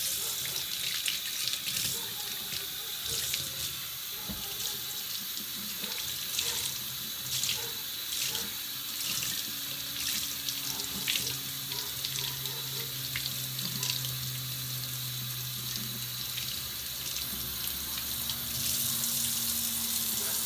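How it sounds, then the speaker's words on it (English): Dyed fabric rinsed by hand in a sink under a steady stream of cold running tap water, a continuous splashing and trickling hiss with faint shifting gurgles, close and unbroken throughout with no talking. "So I just rinse until the water runs clear."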